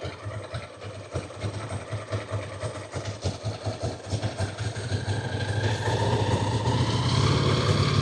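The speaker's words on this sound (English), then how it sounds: "So now if I build the revs up" A Ducati motorcycle engine idles with a pulsing, uneven beat, then revs build up and swell into a louder, sustained higher drone toward the end, close and without talk.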